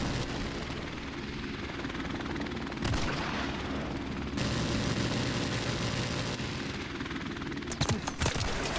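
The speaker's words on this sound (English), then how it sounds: "Friendly helicopter on the way!" A helicopter's rotor drones continuously overhead amid game-style battle noise from Call of Duty: Modern Warfare, with a burst of sharp gunfire near the end.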